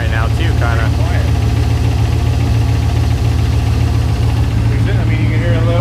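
A junkyard turbo LS V8 idles steadily and loudly up close, a constant low rumble with a faint knock running underneath and a voice talking over it.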